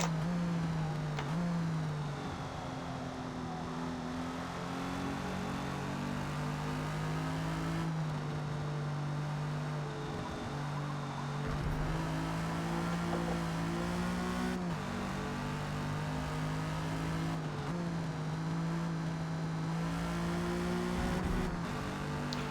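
A 1956 Jaguar D-Type engine races around the Hakone GP circuit in Forza Motorsport, droning steadily and loudly, its pitch rising and falling through gear shifts and braking.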